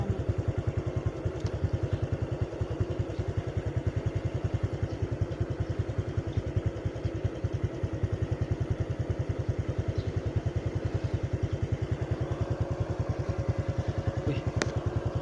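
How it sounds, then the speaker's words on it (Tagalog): A white motorcycle engine runs with a fast, even pulsing chug, a steady moderately close drone across the whole stretch with no clear talk. "May motor."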